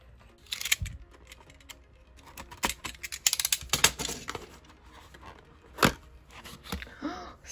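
Someone unwraps a package, making close, irregular crinkles, rips and sharp rustling snaps of packaging material in scattered bursts.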